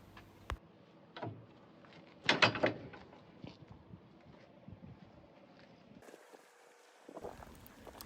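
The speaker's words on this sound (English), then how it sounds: "Now with one hand, lift the safety latch and then pull the kingpin with the other hand." Safety latch lifted and release handle pulled on an articulated lorry trailer coupling, heard as a close metallic clunk and rattle in a short burst, with faint knocks before and wind-like noise afterward.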